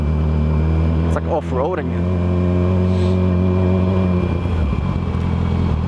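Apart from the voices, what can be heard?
car engine accelerating on a rough road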